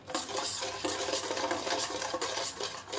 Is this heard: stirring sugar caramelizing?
yes